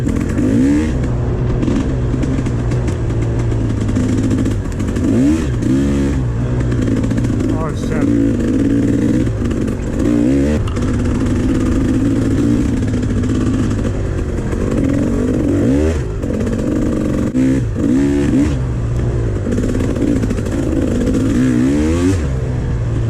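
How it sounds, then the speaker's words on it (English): A fuel-injected Kawasaki KXF 250 dirt bike engine runs loudly and steadily throughout, with revving surges and some clatter on a trail ride at Evart, Michigan; voices may be faintly mixed in. "we got Maciek's Kawasaki KXF 250. And this one's fuel injected"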